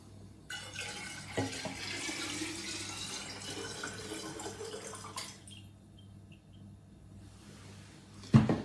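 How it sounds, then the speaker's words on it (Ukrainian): Water runs steadily into a container of alcohol for several seconds, a close, continuous splashing pour that stops, leaving a quiet pause before a brief clunk. "Додаємо спирту воду."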